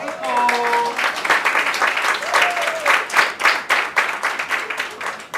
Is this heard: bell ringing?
no